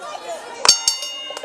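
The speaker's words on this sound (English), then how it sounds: "Well, the bells rings." A bell rings at the start of a wrestling match, giving a few short, bright metallic clangs in quick succession.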